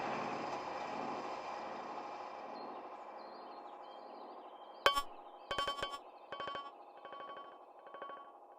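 A fading sustained tone gives way to a few rapid repeated hits, a sampler retriggering in a quick stuttering roll through an OTO Machines BIM effect from an Elektron Digitakt, fairly quiet.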